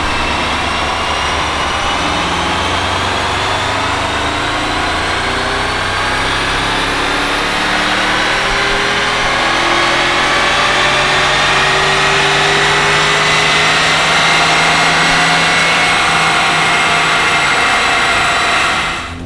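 A Porsche 958 Cayenne Turbo with an IPD plenum fitted runs a dyno pull, its loud engine climbing steadily in pitch for nearly twenty seconds before easing off at the very end.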